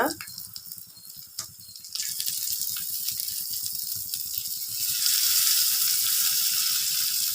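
Dried valakaruvadu fish frying in a small pan over a slow flame, a soft sizzle that swells into a louder, steady hiss, with a few light clinks early on.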